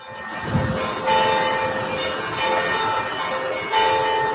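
Church bells chiming at Catholic parishes around the St. Louis metro area, including the Cathedral Basilica, for the announcement of a new pope. Sustained ringing tones sound through a rumbling, noisy outdoor background, swelling in several waves.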